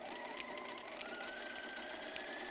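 A sewing machine runs steadily while stitching a skirt seam with a half-inch allowance, its motor whirring continuously with a fine rapid needle rhythm throughout, close and clear with no talk.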